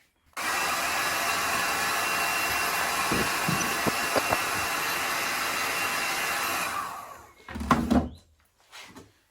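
A heat gun warms the wheel hub of a KTM EXC before a new bearing goes in. Its loud, steady blowing roar runs for about six seconds, then cuts off, followed by a few close metallic clunks.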